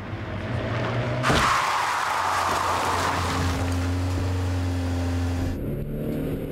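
A car approaches along a road at about 50 km/h in a staged sound effect, rising from a low drone into a broad rushing whoosh that holds steady before cutting off abruptly near the end.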